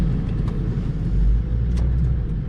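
A 7.3 diesel dually pickup truck accelerates, its engine giving a loud, steady, deep rumble that stays close and unbroken throughout, with no voices over it.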